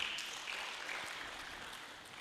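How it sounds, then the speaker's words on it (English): At a teachers' awards ceremony, an audience gives a round of applause, a faint, soft, continuous patter of clapping that gradually fades, heard from a distance. "Please another round of applause for him."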